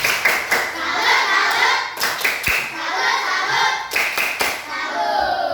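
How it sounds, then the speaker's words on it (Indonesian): Schoolchildren in an Indonesian classroom perform a 'tepuk salut' clapping chant, bursts of rhythmic group clapping repeating in clusters, loud and close, with children's voices mixed in. "Jika benar, berikan tepuk salut."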